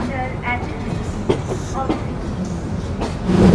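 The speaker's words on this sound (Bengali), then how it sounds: "আমাদের ট্রেন এখন ছুটছে সান্তাহার জাংশন রেলওয়ে স্টেশনের উদ্দেশ্যে।" The Kurigram Express rolls toward Santahar Junction railway station: a steady, loud rumble of the moving train with intermittent rail clatter and knocks, faint voices mixed in, and a heavier surge near the end.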